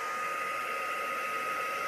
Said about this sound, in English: I've just got my embossing tool here, and I've put my hairdryer nozzle on it